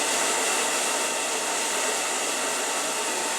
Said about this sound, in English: This is a pretty hot blow dryer